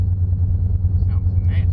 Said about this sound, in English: I might have a bad wheel bearing on this thing.